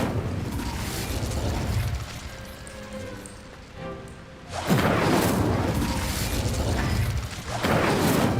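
A fire spell cast in the Hogwarts Legacy video game: a loud, dense whooshing burst that flares up suddenly partway through and roars on, with crackling bursts and mechanical clatter beforehand.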